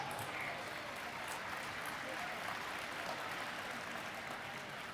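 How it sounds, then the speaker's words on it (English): Applause from an audience at a town's 300th anniversary gala, a steady dense wash of clapping that holds at an even level throughout with no voices. "Give yourselves a round of applause."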